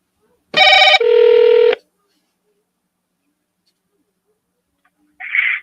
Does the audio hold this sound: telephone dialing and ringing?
yes